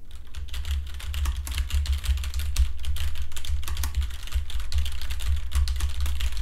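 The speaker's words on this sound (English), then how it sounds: "And when you throw some typing into the mix," Rapid, continuous clicking of keys on a computer keyboard, recorded through a HyperX SoloCast USB microphone, steady and close, over a low background hum.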